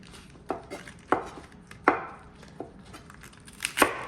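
A knife chops paprika on a cutting board for a vegetable stew, with several sharp, separate knocks spaced irregularly, close and clear with no talking.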